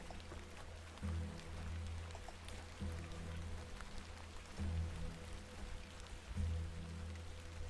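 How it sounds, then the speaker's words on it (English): Steady rain falls in the Victorian-era adventure game The Excavation of Hob's Barrow, a soft continuous patter with low musical swells recurring every couple of seconds and no voices over it. "It's raining."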